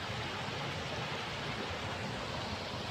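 Waterfall fed by melted snow in a Norwegian forest, a constant broadband rushing roar, even and unbroken, fairly soft and heard alone.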